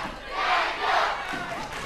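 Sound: crowd cheering at a karate match

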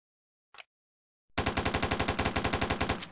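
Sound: Steyr AUG rifle full-auto fire in an animation

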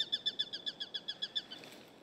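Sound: birds chirping in the video game Dying Light 2

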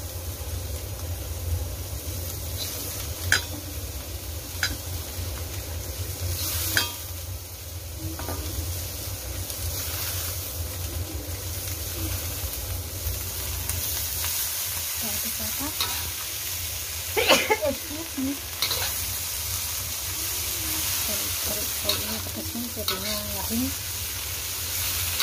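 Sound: stir-frying bean sprouts with wilted chilies

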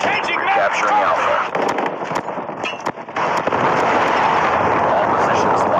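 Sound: predator missile strike in Call of Duty Mobile video game

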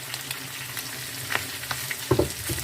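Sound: stirring frying pea soup base, adding carrot

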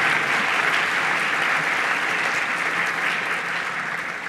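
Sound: audience applause at awards event

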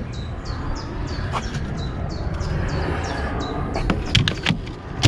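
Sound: birds singing

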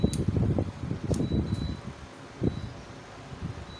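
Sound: 3000 W 24 V inverter switched on, cooling fan running

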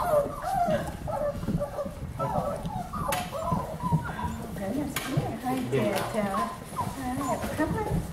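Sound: beagle puppies playing tug of war

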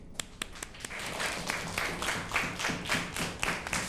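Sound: classroom applause welcoming a new student

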